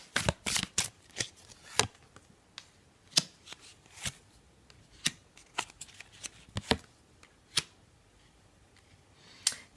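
A deck of tarot cards being shuffled up close, with sharp riffling bursts and slaps at uneven intervals separated by quiet gaps.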